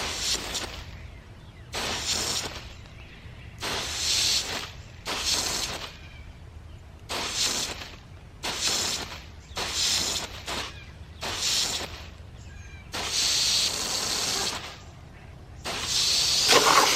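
A metal variable garden hose nozzle sprays water in repeated hissing bursts of one to two seconds each, broken by short pauses, with the flow sputtering unevenly.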